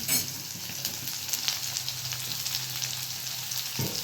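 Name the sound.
peas added to pan, frying sizzle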